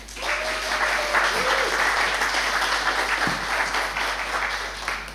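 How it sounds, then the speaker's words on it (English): Audience applause for a new book at an outdoor art talk, a steady wash of many hands clapping that holds loudly for the full stretch, with a faint voice briefly audible beneath. "let's have a round of applause for the new book"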